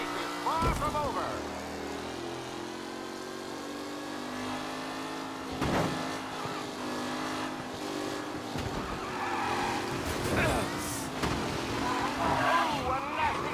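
Race car collision at the back of the field in the Mafia Definitive Edition video game: engines roar with tire squeals and several sharp crash impacts as cars hit. A commentator talks over it.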